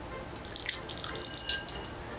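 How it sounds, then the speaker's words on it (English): Hot water trickles and drips into a bowl of powdered gelatin from two packs, a series of small splashy drops over about two seconds, close and soft. "I'm adding 2 tablespoons of hot water."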